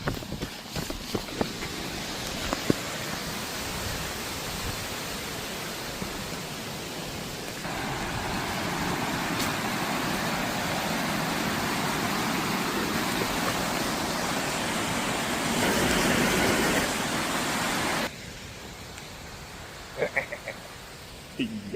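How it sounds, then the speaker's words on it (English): A waterfall on northern Vancouver Island gives a steady broadband rushing roar that swells for a stretch, then drops lower, with occasional faint knocks and rustles nearby. "and I hear a waterfall."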